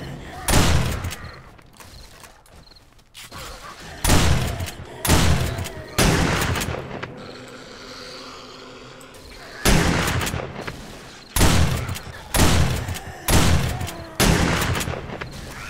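Shotgun fire in the zombie survival game 7 Days To Die during a horde night, a string of loud, sharp blasts coming in clusters, split by a quieter stretch in the middle, with some talk in the background.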